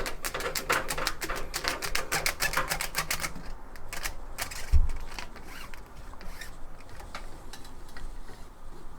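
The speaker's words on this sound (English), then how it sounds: "I will use the same brush for cleaning bottles to clean the pipes" A bottle brush scrubs the dirty intake and outlet pipes of an Eheim Experience 250 aquarium filter. Rapid, close scratchy strokes rasp back and forth, then thin out into slower, sparser scrapes.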